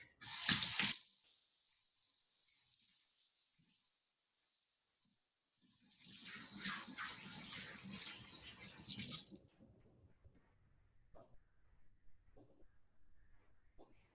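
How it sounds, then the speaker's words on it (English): Hands washed under a running kitchen tap: a brief loud gush of water, then a longer, steadier stream lasting a few seconds, followed by quiet room noise with a few faint clicks. "Wash my hands real quick."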